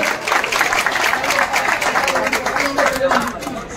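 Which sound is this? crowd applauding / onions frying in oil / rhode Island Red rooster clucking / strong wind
crowd applauding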